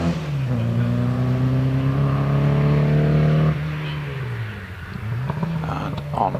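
A classic Mini rally car climbing the Prescott hillclimb, its engine revving hard and holding a strained note before easing off for a corner and accelerating again, heard from the trackside at moderate distance.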